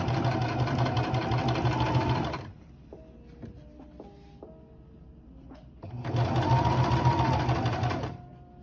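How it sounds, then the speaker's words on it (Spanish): A sewing machine stitches bias tape in a straight line, running in two steady bursts of rapid whirring with a quiet pause between, where small clicks and handling noises are heard. "Continuamos cosiendo en recto."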